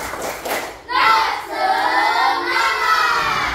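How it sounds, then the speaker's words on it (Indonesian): A school class erupts into a loud, close group chant of children's voices with rhythmic clapping, starting after a short pause and carrying on as a sustained, spirited shout. "Tepuk semuanya, tepuk semangat."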